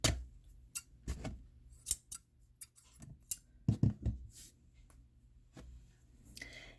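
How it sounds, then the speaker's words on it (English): Scissors snip crochet yarn while an earring is being finished, a run of small, crisp, separate clicks and snips at close range against near silence. "So you're just going to cut your yarn,"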